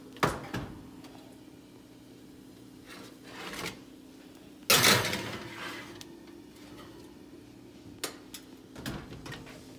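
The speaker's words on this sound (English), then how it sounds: "I am going to pop it in the oven and turn the oven on broil." A baking sheet full of bacon slides into a kitchen oven, with a loud metallic clatter and thump as the oven door and tray meet, among quieter scattered kitchen knocks.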